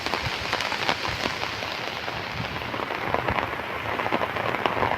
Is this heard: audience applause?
no